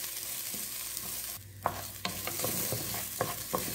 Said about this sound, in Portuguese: E vamos dar uma refogada aqui nesse arroz, junto com a cebola e a manteiga.